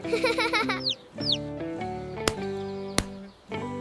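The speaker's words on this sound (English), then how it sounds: "A chick. It hatched." A newly hatched chick cheeps in a few quick, high, rising chirps amid busy layered tones and voices, with two sharp clicks later on.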